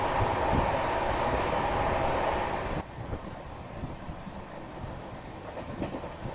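Sainagar Shirdi Vande Bharat Express, a Mumbai–Shirdi train, rushing past close by with a loud broadband roar that cuts off abruptly near the three-second mark, leaving quieter wind and rail rumble.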